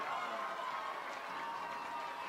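A football crowd at a high school game between TMP-Marian and Cimarron roars and cheers in a broad, distant wash beneath a voice speaking.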